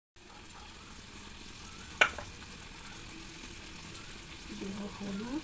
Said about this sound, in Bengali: এখানে লঙ্কা, টমেটো আর পেঁয়াজ কষিয়ে নিচ্ছি